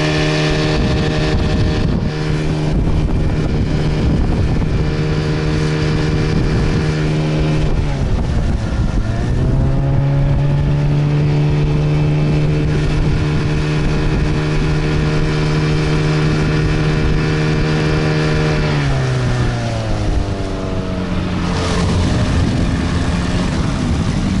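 A Johnson/Evinrude 6/8 outboard motor drives an inflatable PVC boat, droning loud and steady up close, its pitch dipping and rising twice as the throttle changes, with no talking.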